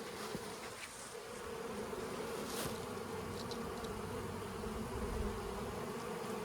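A swarm of honey bees on a farm hums in a continuous, dense buzz that swells slightly midway, close and steady with no voices.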